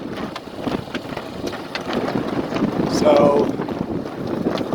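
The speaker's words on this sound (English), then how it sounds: "so that's the wind that came in on me" Strong wind roars across the microphone while sailing a small boat alone in 20 to 30-plus knot gusts, with loose gear flapping; someone speaks briefly over the steady buffeting.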